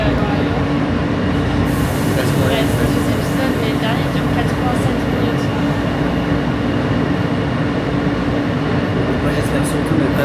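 A New York subway train rumbles steadily along the rails, heard from inside, loud and constant, with a faint metallic squeal rising now and then.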